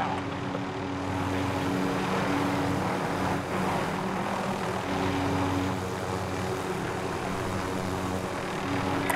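A helicopter engine drones steadily throughout in the video game Call of Duty: Modern Warfare Plunder mode on Caldera, a constant loud rotor hum with no pauses.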